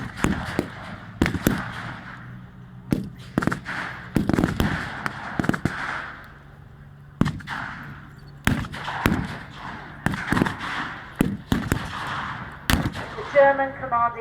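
Rifle and machine-gun fire crack out during a WW2 battle re-enactment on open fields. Sharp, uneven shots ring out singly and in quick bursts, with short echoes and gaps between them.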